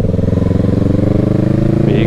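Kawasaki Z650 motorcycle with an Exil aftermarket exhaust, its engine running loud and close with a steady throbbing drone and a slight rise in revs, while a rider talks over it.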